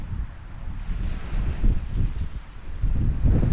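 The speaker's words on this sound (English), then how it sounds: "The wind has picked up, the wind is cold." Cold wind gusts at the seaside at Barton's Point on the Isle of Sheppey, buffeting the microphone with a steady, rumbling roar that swells and eases in waves.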